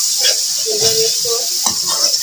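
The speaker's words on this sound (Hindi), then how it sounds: "अब हम इसमें शिमला मिर्च डालेंगे" Capsicum hits a pan of frying masala for a bhindi dish, giving a broad sizzle with scraping stirs and a spoon tapping the pan; a faint voice murmurs briefly.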